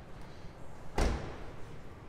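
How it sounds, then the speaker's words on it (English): A 2020 Toyota Corolla SE front door unlocks through its smart key system, heard as a single short muffled thunk near the middle, faint and close against quiet background noise. "it'll unlock the front door for you as well."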